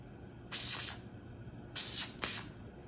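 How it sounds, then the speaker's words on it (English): Perfume spritzed from an atomizer in three short, sharp hissing bursts, two close together after a first, near and clear against quiet. "So that's how I apply the atomizer. Just spritz,"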